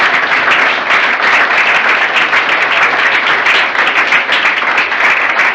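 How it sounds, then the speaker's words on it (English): A roomful of people applauds at a sports club's end-of-season awards presentation, a steady, loud wash of clapping held at even strength from start to finish with no talk over it. "Round of applause for Warren."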